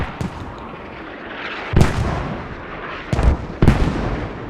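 Mortar fire in a competitive squad-match video game: several sharp, booming blasts in irregular succession over a steady background rumble, with no talk.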